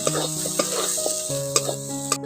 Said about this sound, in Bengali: আদা কাঁচা লঙ্কা আর জিরে একসঙ্গে বেটে নিয়েছি এই বাটা মশলাটা এর মধ্যে দিয়ে দিচ্ছি